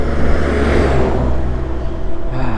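Cars on a road hum and rumble past close by, a steady engine and tyre drone with a slight swell, continuous with no talking.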